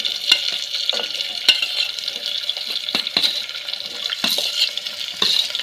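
Onions frying in hot oil, a bright steady hiss and crackle up close, punctuated by scraping strokes of a stirring spoon, with no one speaking.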